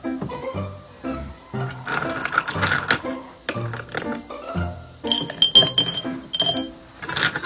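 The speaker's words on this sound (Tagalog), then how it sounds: "Lagyan natin ng ice." Ice cubes clink and rattle into a glass while a Coke float is being made, a series of sharp bright clinks in bursts over several seconds, close and fairly loud.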